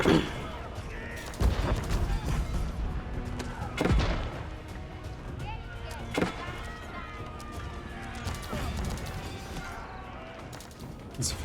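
Gunners firing during an Age of Empires 4 battle between Japanese and Malian armies, with several sharp bursts of gunfire rising over a dense, busy mix of battle noise.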